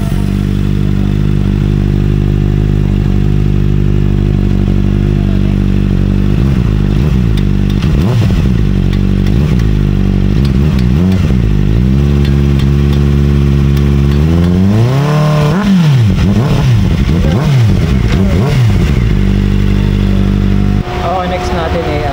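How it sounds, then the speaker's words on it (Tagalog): Kawasaki ZX-4RR motorcycle with a changed exhaust muffler, revving repeatedly with rising and falling engine sweeps, loud and close, with a sharp burst of high revs near the end; some voices are faintly present. "Ito, testing na tayo ng muffler."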